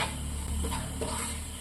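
Turmeric and chili powder being stirred in a hot pan, a soft, steady scraping and gentle sizzle, close and alone without any voice.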